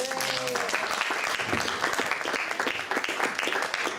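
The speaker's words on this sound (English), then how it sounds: "Give a round of applause." A live stage magic show audience claps in a sustained burst of applause, dense and steady, with a few voices mixed in.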